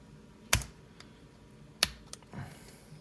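A butter knife pries at the plastic housing of a BMW E90 key fob, giving two sharp clicking snaps and a few lighter ticks and scrapes, close and isolated.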